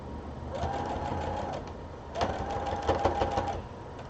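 A sewing machine stitching pin tucks in fabric, two close bursts of rapid, steady mechanical whirring and needle clatter separated by a brief pause.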